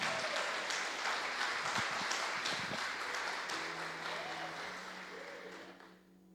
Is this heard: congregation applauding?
yes